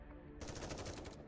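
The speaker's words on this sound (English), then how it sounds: "fall to the ground in a hail of gunfire" A short, rapid burst of automatic gunfire in the game Nikke, fast evenly spaced shots after a brief quiet moment.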